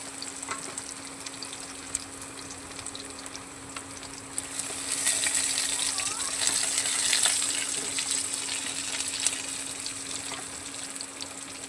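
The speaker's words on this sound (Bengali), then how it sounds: "ভেজে নেব ভালো করে একটু ভেজে নেবো" Soybeans sizzle and crackle as they fry in a pan, a steady mid-level hiss that swells louder partway through, with occasional stirring scrapes and a constant low hum beneath.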